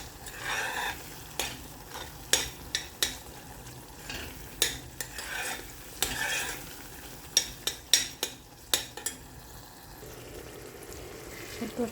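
Onions sautéing in oil in an iron pot, with soft sizzling beneath repeated sharp scrapes and knocks of a spoon stirring against the metal, close by and unaccompanied by speech.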